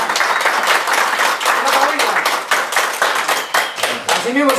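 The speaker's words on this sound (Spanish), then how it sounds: "Hermanos, recibamos con un voto de aplauso" Loud, dense applause and clapping from a crowd at a Peruvian artists' gathering in Congalla, continuous for several seconds with faint voices and shouts mixed in near the end.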